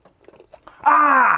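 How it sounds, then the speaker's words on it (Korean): Someone bites into springy blanched lumpsucker fish with a few soft, quiet bite and chew sounds close up, then a loud drawn-out vocal exclamation cuts in. "감히 저한테 4일 만에 잡은 도치를 물 기회를 주는 겁니까?"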